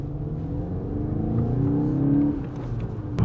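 A new Volkswagen Golf GTI accelerates on the road, its engine note rising steadily and loud from inside the car, then easing off as a gear changes, with no talking.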